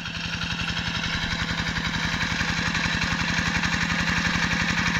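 A tractor engine runs steadily at close range, its fast, even chugging pulse loud and unbroken for the whole stretch with no voices.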